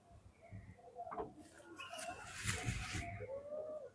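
Pigeons in a loft coo softly with scattered fluttery rustles and clatter nearby, a low murmur of birds filling the space with no clear talk.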